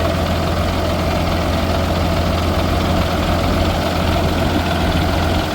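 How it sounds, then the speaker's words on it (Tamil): A New Holland TC5.30 combine harvester's diesel engine runs at a steady, even idle, a loud continuous drone with a low rumble and no change in pace. "இன்ஜின் வாருங்க எவ்வளோ ஸ்மூத்தாக ரன் ஆகுது."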